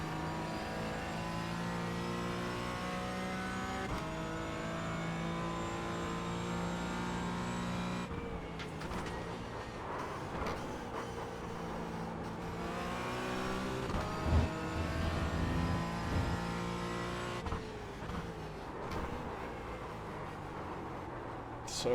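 A Porsche Cayman GT4 lapping the Brands Hatch race track, its engine heard from inside as it revs hard and climbs in pitch, then drops sharply at each gearshift, repeating through the lap.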